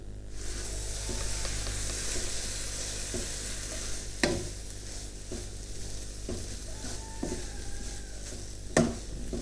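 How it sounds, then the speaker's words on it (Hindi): Yogurt is stirred into a hot cooking pan for a chicken kachori filling, making a steady loud sizzle with repeated spoon scrapes and two sharp knocks against the pan. "अब इसमें मिक्स करना है आधा कप के बराबर दही"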